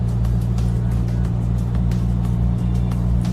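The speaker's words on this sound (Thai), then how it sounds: "เราจะออกตัวนิดนึงนะครับ" A Mazda BT-50 Pro pickup truck pulls away with a low, close, steady engine rumble and a faint rhythmic ticking over it.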